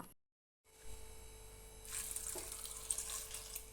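Water is poured into a cooking pot to boil vegetables for a homestyle Kerala lunch, a soft steady splashing stream that builds after a brief silence and carries on quietly with a faint hum underneath.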